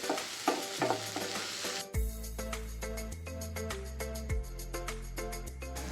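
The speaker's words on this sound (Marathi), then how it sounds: "वाटाणा परतून झाला की लगेचच टोमॅटो टाकून तेही परतून घेऊ" Peas and tomatoes sauté in a pan for a jowar pulao, stirred steadily with a utensil that clinks and scrapes against the metal in a rhythmic run. Music plays underneath and no one speaks.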